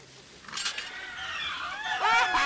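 Caged birds in the video game Sherlock Holmes: The Awakened chirp and whistle in rising, wavering calls that grow louder and busier toward the end, over a soft ambient bed.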